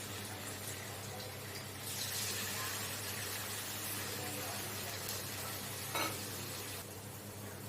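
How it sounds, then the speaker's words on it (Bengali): Paneer pieces fry in hot oil with a close, continuous sizzling hiss. A slightly louder crackle comes midway, and no one speaks. "এরপর আমি তেলের মধ্যে একটা একটা করে পনির ছেড়ে দেবো।"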